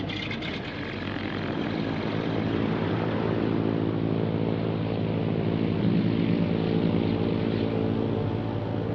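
A propeller airplane drones steadily in flight, a loud continuous engine hum with a low throb that holds evenly for several seconds, with no voices over it.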